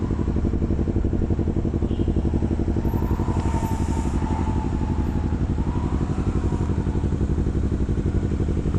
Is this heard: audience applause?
no